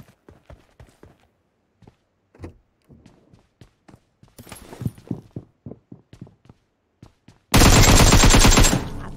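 Vector submachine gun fire in a video game, with scattered sharp single shots and short bursts, then a loud sustained full-auto burst near the end.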